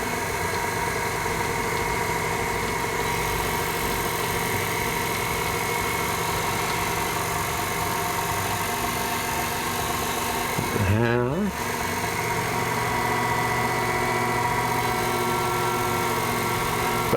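An electric pasta machine rolls dough for puttanesca, a steady loud motor hum and rattle running throughout with a brief pitch sweep midway as the dough passes through.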